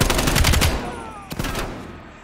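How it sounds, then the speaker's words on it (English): AK-74 rifle gunfire in the video game Call of Duty: Black Ops Cold War: a rapid, loud burst of automatic shots, then a brief pause and a second short burst, with a faint trailing echo. "That's fucking AK-74."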